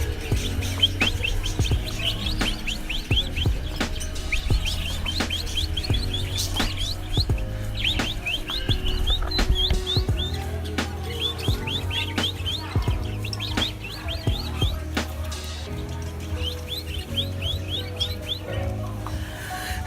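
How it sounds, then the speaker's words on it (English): Many small birds chirp and tweet in quick repeated bursts, fairly close, over a steady low background hum, in the Philippine Islands. "You can see the birds here."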